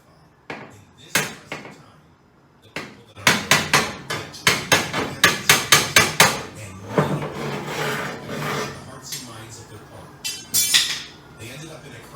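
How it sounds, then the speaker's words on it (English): Hammer blows on a wooden dowel rod, driving a rusted part free from a 1953 Chevrolet door; a few scattered taps, then a rapid run of sharp, loud strikes, followed by further bursts of hits, with rattling metal between them. "I put a wooden dowel rod or something on it and start working it free"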